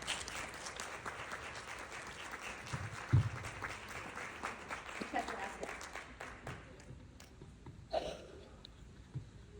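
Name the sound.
audience applause welcoming a speaker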